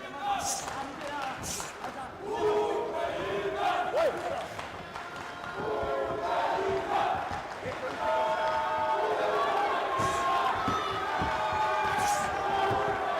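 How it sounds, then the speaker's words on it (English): Crowd noise at a World Cup semi-final boxing bout in India, a busy arena roar with shouts and cheers rising and falling for Avinash Jamwal, under steady commentary voices. "Crowd nicely getting behind Avinash Jamwal as well"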